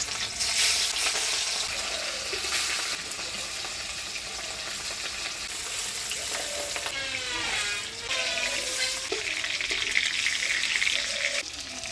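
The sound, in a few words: chela fish frying in hot oil on a clay stove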